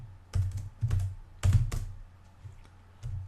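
Fingers tap out several quick clusters of keystrokes on a computer keyboard, close and distinct, separated by short gaps, with no one speaking.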